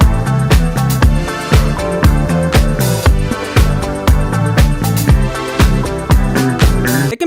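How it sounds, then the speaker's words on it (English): Low A chugged on electric guitar in eighth and sixteenth notes, buried within a loud full pop mix with punchy regular drum hits and dense backing over several seconds. "we just have the guitar playing that low A for the most part"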